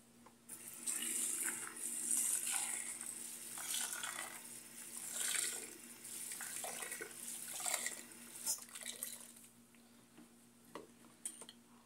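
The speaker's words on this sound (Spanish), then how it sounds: "Voy a enjuagar bien la esponja." A kitchen tap runs steadily while a sponge is rinsed and squeezed under it, producing close splashing and gurgling water with soft squelches and a few light clinks, heard alone without talk.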